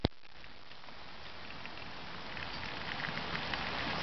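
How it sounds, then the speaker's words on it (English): Steady rain patters outside an open window in Israel, a dense, even hiss of drops that grows slightly heavier toward the end, with no voices. "Listen to the sounds of the rain."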